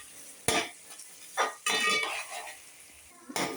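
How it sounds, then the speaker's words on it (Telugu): Dried shrimp and onions fry in oil, a steady close sizzle broken by a few sharp scraping stirs and light clinks of a utensil against the pan. "ఎండు రొయ్యలు బాగా ఫ్రై అవుతున్నాయండి."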